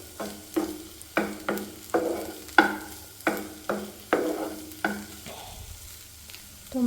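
Tomatoes fry and sizzle in a pan for a paneer sandwich filling, with about eight sharp stirring scrapes at a steady rhythm over a continuous soft sizzle, close and fairly quiet with no talking.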